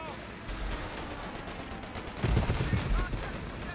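An incoming airstrike in the World War II strategy game Company of Heroes 3 on the road to Monte Cassino: a muffled low boom rumbles out over a constant bed of distant gunfire and battle noise.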